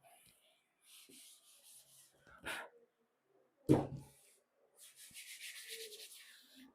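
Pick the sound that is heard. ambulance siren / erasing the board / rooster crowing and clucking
erasing the board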